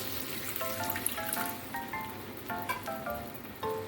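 Tomatoes and a chickpea mixture sizzle and crackle steadily in a pan as water goes in, with a broad hiss and scattered bright pops running throughout the few seconds.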